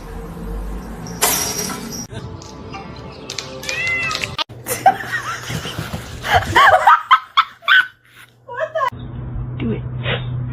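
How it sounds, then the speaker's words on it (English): Cats fighting indoors, with yowling caterwauls and meows that rise and fall, mixed with people talking and laughing nearby. "That's your cat!"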